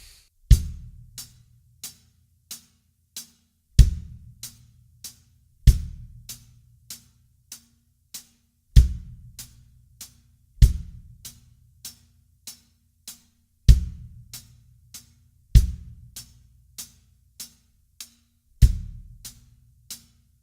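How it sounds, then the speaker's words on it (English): A steady drum beat: a deep kick drum thumps on a repeating pattern while crisp hi-hat ticks keep even time between hits. "So with the kick drum and the hi-hat together, it would sound like this."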